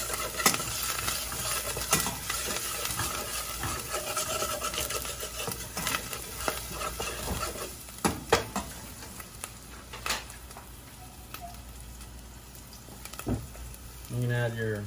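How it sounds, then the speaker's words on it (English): Vegetables with ginger are sautéed in a pan for orange chicken lo mein, giving a light sizzle broken by utensil scrapes and clicks against the pan, fairly quiet and intermittent. "Just move it around. Saute it up a little bit."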